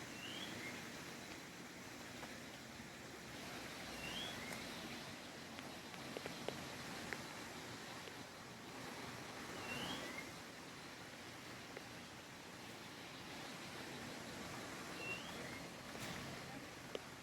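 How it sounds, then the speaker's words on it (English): A steady wash of river water rushes below a jungle overlook near La Fortuna, Costa Rica, with faint, sparse bird chirps dotted over the constant noise. "Let me let you just listen to the birds and the water down there."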